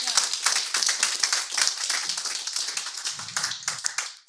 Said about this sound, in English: Let's please applaud again on launching this.